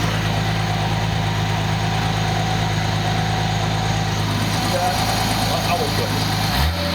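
A Nissan 280ZX turbo, running on a 300ZX Z31 turbo ECU, idles close by with a steady, even low hum and slight vibration that holds throughout and drops away at the very end.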